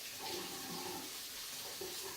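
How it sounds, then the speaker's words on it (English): Hot water runs from a kitchen tap during cleaning with a microfibre cloth, a faint, continuous hissing rush with slight gurgling variations, steady throughout and without speech. "turn it on hot water, and I'm going to roll it against itself"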